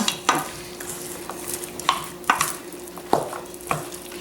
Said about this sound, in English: So now I'm just going to stir this all up